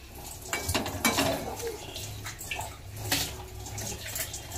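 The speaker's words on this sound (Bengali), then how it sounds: "আরেকজন দেখো মাজা খোসায় ব্যস্ত" Dishes, pots and pans being scrubbed, with scraping and clattering bursts over running water, under a steady wash of background noise.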